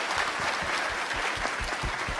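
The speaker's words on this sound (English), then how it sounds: "give ourselves, our speakers, a round of applause" A conference audience at a Taiwanese tech session on AI and data science applauds its speakers, a steady, fairly quiet patter of many hands clapping throughout.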